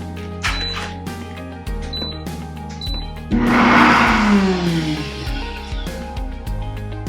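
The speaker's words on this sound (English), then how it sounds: "You're just gonna blend it up till it's smooth" A countertop blender whirs through plant-based, oil-free ricotta with garlic powder, a loud rising motor roar lasting a few seconds amid clattering kitchen sounds before and after.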